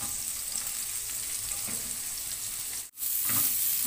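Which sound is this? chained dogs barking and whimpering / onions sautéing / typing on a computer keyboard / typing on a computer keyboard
onions sautéing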